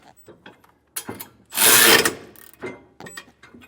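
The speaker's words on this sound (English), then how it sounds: "Now we're going to tighten up our nuts here until we get that lock washer totally flat." A wrench ratchets while nuts are tightened on a B&W Companion 5th wheel hitch on a 2024 Ford F-350, one loud, close burst of rapid clicking with softer taps and clicks before and after.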